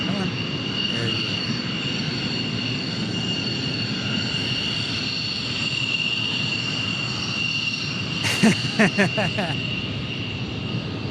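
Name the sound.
F-16 fighter jets at Tucson airport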